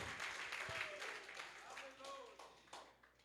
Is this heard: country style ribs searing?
no